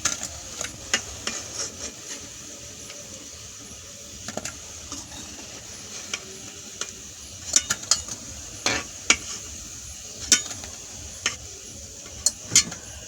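Palm seed pitha cakes frying in a pan of oil, a soft, steady sizzle with scattered crackles and sharp pops that come more often toward the end, moderately quiet and close.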